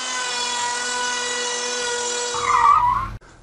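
A steady high-pitched drill whine runs, then bites into wood with a rougher grinding burst before cutting off abruptly.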